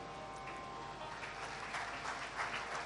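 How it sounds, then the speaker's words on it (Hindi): Audience applause at a family gathering celebrating a birthday, a quiet, steady wash of clapping that stays fairly faint and thin throughout. "तो तालियों की आवाज कमजोर आई है,"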